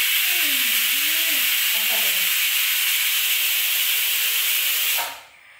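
A kitchen pressure cooker vents steam in a steady, loud broadband hiss that holds for about five seconds before cutting off abruptly, with a voice talking faintly underneath at the start.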